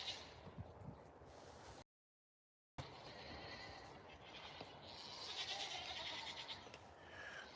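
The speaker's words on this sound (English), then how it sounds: "here come the goats" Goats bleat faintly at a distance over a quiet outdoor background, with a brief dropout partway through.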